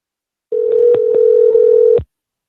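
A telephone dial tone sounds loud and close as a steady hum lasting about a second and a half, overlaid with a few quick clicks from buttons being pressed, then it cuts off abruptly.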